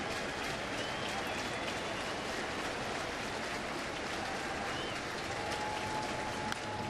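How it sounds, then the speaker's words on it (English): Baseball stadium crowd noise at a Brewers at Cardinals game, a broad distant roar and scattered clapping rising on a 2-2 pitch, continuous and fairly faint throughout. "Crowd comes alive a bit on a 2-2 pitch."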